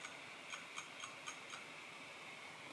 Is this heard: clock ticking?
yes